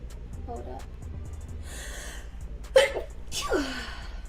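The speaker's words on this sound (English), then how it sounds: "I'm gonna sneeze again." A woman with allergies sneezes twice, each burst sharp and close, preceded by quick gasping inhales, with a few words spoken.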